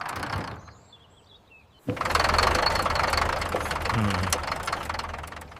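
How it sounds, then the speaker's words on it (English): A faulty tractor engine starts up partway through after a quiet stretch and then runs with a rough, knocking idle, moderately loud and close, with some faint background noise. "Heard your tractor's crying again."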